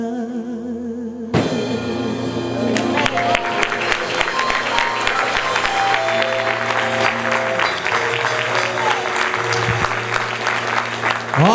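Audience applause breaking out after a gospel song at a televised show, a loud sustained crowd of clapping with a few cheers, following a brief moment of music before it.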